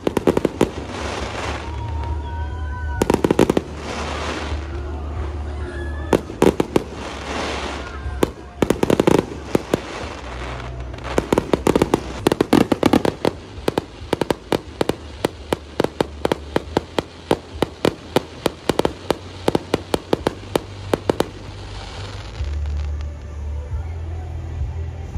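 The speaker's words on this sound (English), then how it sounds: "we got to enjoy Broadway at the Beach's fireworks before we headed home" Fireworks show at Broadway at the Beach in Myrtle Beach, South Carolina, with repeated booming bursts and crackling pops from mid-distance, thickening into a dense rapid barrage near the end, and crowd voices beneath.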